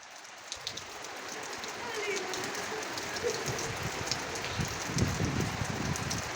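Steady rain patters and splashes on the ground outdoors among trees, a soft continuous hiss with occasional nearer drips and a few footstep-like thumps, and voices can be heard faintly underneath.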